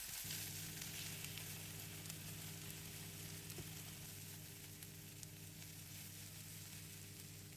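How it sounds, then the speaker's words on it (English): Spring onions and sausages sauté in hot oil in a frying pan for Korean-style fried rice, a steady, close sizzle holding even throughout with no voices. "sausages, and sauté until the sausage is hot"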